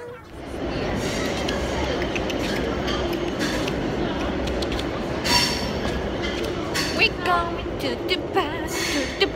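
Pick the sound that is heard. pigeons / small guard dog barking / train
train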